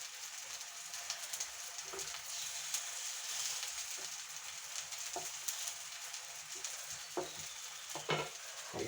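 Slices of nendran banana fry in a pan over a medium flame, a faint, continuous crackling sizzle dotted with sparse small pops and occasional light utensil taps.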